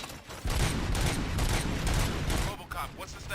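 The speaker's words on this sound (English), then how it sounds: "Gunshots?" Gunfire in the RoboCop video game, a dense rapid burst of shots firing for about two seconds, loud and close, then dropping off as a voice speaks.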